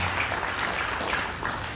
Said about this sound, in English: Once again, another round of applause for all of our attendees.